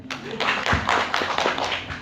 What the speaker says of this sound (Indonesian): Tepuk tangan yang lebih keras buat Anda semuanya.